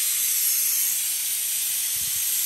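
A pressure cooker lets out a loud, steady hiss of steam escaping under pressure, continuous and close, with a faint low bump near the end.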